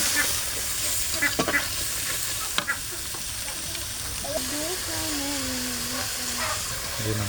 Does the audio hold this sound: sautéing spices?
yes